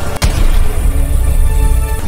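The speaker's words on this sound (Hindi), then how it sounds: "मकर पर गोली चलाई जा रही थी।" A single sharp gunshot-like bang at the start, followed by a loud, rumbling boom that lingers and slowly fades.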